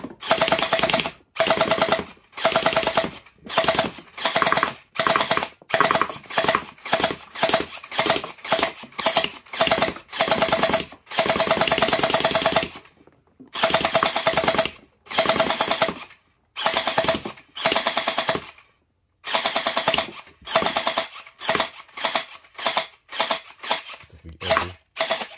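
An MP17 gel blaster pistol fires repeatedly, loud and close, in rapid bursts of sharp shots separated by short pauses, with a voice talking between some of the bursts.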